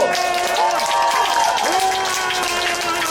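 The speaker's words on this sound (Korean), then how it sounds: "박수 한번 주십시오." A crowd at a county head candidate's election campaign rally bursts into applause, dense clapping layered over music with sustained tones and sliding pitches.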